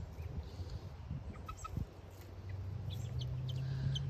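Hens cluck softly and intermittently in a backyard coop after rain, a few faint close calls scattered over a low steady background hum.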